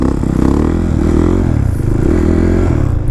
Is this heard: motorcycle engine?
yes